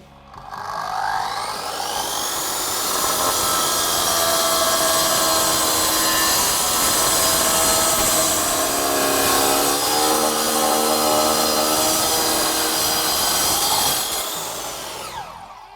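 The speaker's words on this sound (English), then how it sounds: "So, yeah, hard concrete paving slab. I went through, this is ready to lay if you wanted." An Evolution Power Tools electric concrete saw cuts through a hard concrete paving slab, a loud, steady high-pitched whine and grinding that holds for about fourteen seconds before winding down, close and alone without talk.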